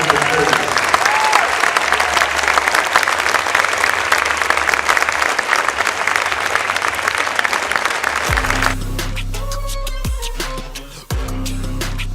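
A high school boys basketball crowd applauds an honored class, a loud continuous roar of clapping that cuts off abruptly, giving way to speech over music.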